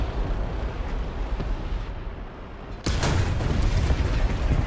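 A tank cannon fires in the War Thunder video game with a sudden loud boom, followed by sustained dense rumbling of battle noise and explosion, dominating the soundscape without talking.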